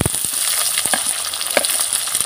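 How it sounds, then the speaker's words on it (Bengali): Green chilli, capsicum and onion lightly frying in oil for chilli chicken, a bright steady sizzle punctuated by sharp spatula taps and stirring clicks, close and loud with no talking. "এগুলোকে আমি বেশি ভাজবো না, হালকা ভেজে নেব।"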